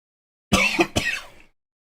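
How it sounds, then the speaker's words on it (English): A single harsh cough or throat-clearing burst from a person with hay fever, close and fairly loud, split into two quick pulses, with silence before and after. "Sorry about the coughing."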